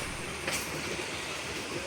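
Kuranda Scenic Railway train running through Queensland, a continuous rumble and rattle of the rolling carriages heard from on board, steady and close with one brief louder clack.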